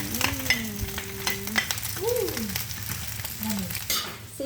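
Rice with vegetables is stir-fried in a pan, a busy close sizzle with constant stirring and scraping, and a voice briefly murmurs underneath.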